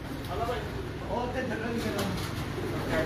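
Several fancy Teddy pigeons coo softly in a loft, their low murmuring calls steady throughout and partly mixed with someone talking nearby.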